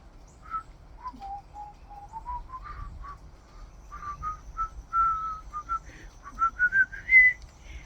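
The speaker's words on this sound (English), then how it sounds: "I used to whistle real good like this." Someone whistles a soft, wandering melody of short notes that rises toward the end, fairly faint and close, with light background noise.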